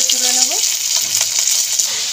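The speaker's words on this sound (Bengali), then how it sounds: "এপিট ওপিট করে ভাজা হয়ে গেছে মাছের মাথাগুলো" Fish heads fry in hot oil with a loud, close, continuous sizzle and crackle, some stirring noise and a faint tonal sound early on.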